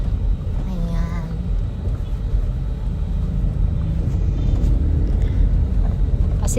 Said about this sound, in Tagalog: habang nagbo-voice over ako, nandito ako sa sasakyan. Kaya medyo maingay.